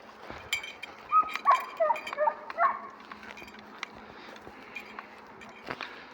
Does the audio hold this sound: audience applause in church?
no